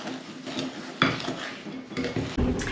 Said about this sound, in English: Push those together, blend them all in, mix them in.